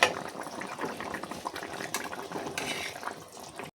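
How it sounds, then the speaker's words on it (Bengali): A pot of spicy bhola fish curry broth bubbles and churns at a rolling boil, a close, dense, continuous watery roil with no voices. "মাছটা দিয়ে আর একটু ঝোলটা ফুটতে থাকবে"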